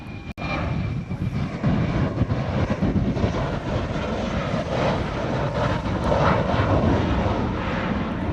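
Airliner climbing out of Honolulu bound for Maui, a loud sustained engine roar that holds steady and broad throughout, close by and uninterrupted by speech.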